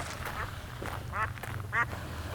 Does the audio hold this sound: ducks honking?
yes